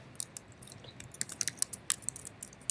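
Quiet, scattered keyboard typing: irregular light key clicks clustered in short bursts, close and faint, with no talking.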